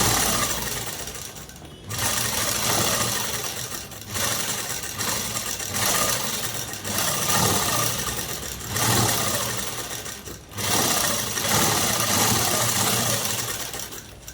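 A sewing machine runs in several steady bursts with short pauses between them, stitching a long frock dress made from a saree. The motor is close and fairly loud, and no voices are heard.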